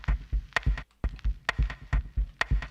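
A rhythmic pattern played through a distortion effect, regular punchy hits with bright crunchy attacks repeating in a steady groove, fairly loud and alone.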